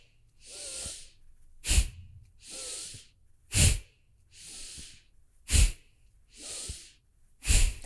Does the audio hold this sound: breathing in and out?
yes